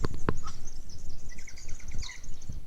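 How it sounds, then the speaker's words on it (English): Wattlebirds calling in the Australian bush on private land with sheep on a nearby hill: repeated harsh, raspy calls at moderate distance, overlapping through the clip with no speech. "Lots of wattle birds in the background."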